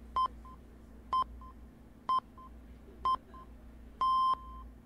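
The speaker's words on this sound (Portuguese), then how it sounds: "Acho que esse foi o despertador." An alarm clock sounds in the video game League of Enthusiastic Losers, five evenly spaced electronic beeps about a second apart, each a bright doubled tone, the last one held longer, over a low background hum.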